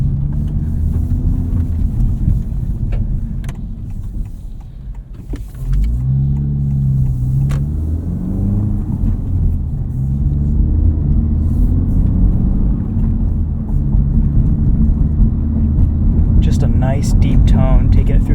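A 2023 Honda Civic Type R with its front resonator deleted revs through the range from the driver's seat, its loud, close exhaust holding a steady droning rumble with rising and falling engine tones.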